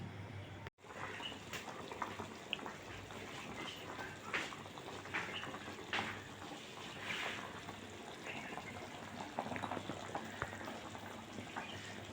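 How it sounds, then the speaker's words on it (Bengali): Taro and okra simmer in a pot for a sour Bengali dish, making a steady, soft bubbling hiss throughout with a few faint stirring or clinking touches and no speech. "কচুগুলো আর একটু সিদ্ধ হবে"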